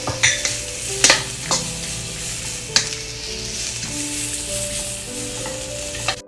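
Spring onion whites, carrot, beans, cabbage and capsicum stir-fry in a hot pan for egg fried rice, giving a loud, continuous close sizzle. Occasional sharp clanks of a spatula against the pan cut through it.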